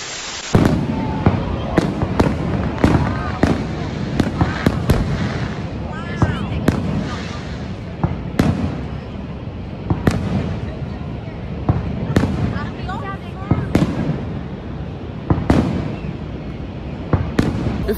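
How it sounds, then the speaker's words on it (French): A fireworks display at Niagara Falls, with a long run of loud booming bursts at irregular intervals, some crackling, over crowd murmur and occasional voices from people nearby. "Le feu d'artifice, il était pas mal."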